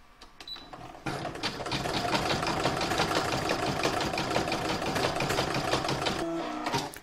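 Embroidery sewing machine stitching a single-hooped patchwork star design: a steady, loud, rapid rhythmic needle clatter that starts after a second of quieter rattling and runs continuously to the end, with no talking.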